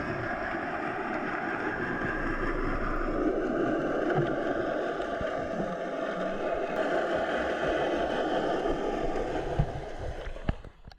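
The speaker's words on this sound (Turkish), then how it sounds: "Duyduğum 500 metre ilerideki geminin motor sesiydi" Underwater in the Bosphorus near the Fatih Sultan Mehmet Bridge, a ship's engine about 500 metres away produces a steady low hum and rumble, continuous throughout with a few faint clicks near the end.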